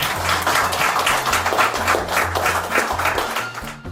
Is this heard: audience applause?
yes